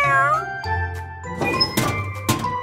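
A cartoonish kitten meows once with a rising-falling tone over light music with tinkling chimes and thumps.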